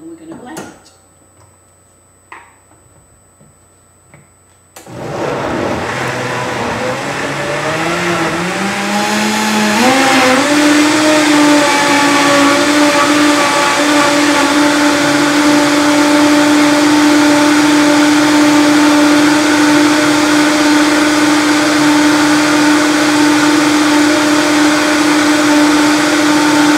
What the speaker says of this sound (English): And then we're going to blend it.